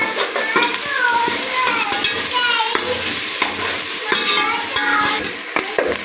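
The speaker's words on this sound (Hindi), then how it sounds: "प्याज थोड़े से ब्राउन हो गए हैं और ये अदरक लहसुन जो है वो डाल दिया इसके अंदर।" Ginger and garlic fry with browned onions in a pan for a chicken pulao, sizzling steadily as a utensil stirs and scrapes against the metal, close up with no talking.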